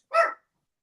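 A single short dog bark, close and fairly loud, with nothing else around it.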